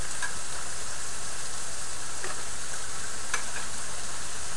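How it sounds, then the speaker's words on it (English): Mushrooms hit a frying pan of softened onions and sizzle in a steady, close hiss, with a few sharp ticks and clinks from stirring. "Alright, the onions are starting to get softer. I'm going to add the mushrooms now."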